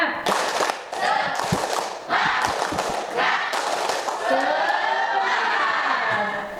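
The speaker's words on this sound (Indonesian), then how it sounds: "Satu kali tepuk semangat." Classroom of students doing a rhythmic spirit clap, several loud bursts of group clapping and thumps in quick succession, with voices mixed in.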